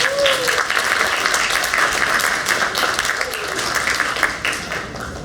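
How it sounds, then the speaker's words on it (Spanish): Loud, sustained applause from a conference audience welcoming a doctor to the stage at a scientific and innovation congress, steady clapping filling the room for several seconds with a faint voice briefly over it. "Lo recibimos con fuertes palmas."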